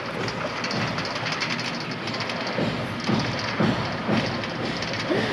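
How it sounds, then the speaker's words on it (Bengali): A video game train rumbles past with rhythmic clacking and mechanical clunks over steady noise, fairly loud, no talking. "আর ট্রেন আমাকে দেখে চলে যাচ্ছে।"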